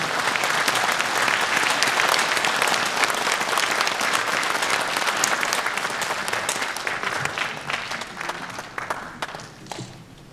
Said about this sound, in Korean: 우리 사모님 큰 박수로 한번 다시 보내주시기 바랍니다